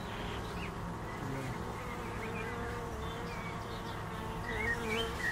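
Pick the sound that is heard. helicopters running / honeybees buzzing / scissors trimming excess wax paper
honeybees buzzing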